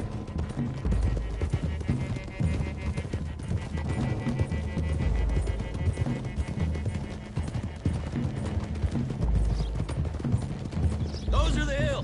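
Horse hooves clip-clop steadily in Red Dead Redemption 2 as a gang rides toward the hills, mixed under a busy game soundtrack and spoken dialogue, with a short burst of other noise near the end.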